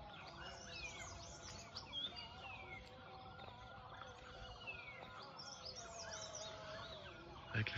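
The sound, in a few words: birdsong at sunrise in a Himalayan valley, Nepal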